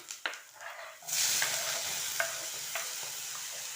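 Tomatoes drop into a hot pan of frying mushroom gravy base with green chillies, a few sharp knocks giving way to a steady, close sizzle with occasional clinks of a stirring spoon.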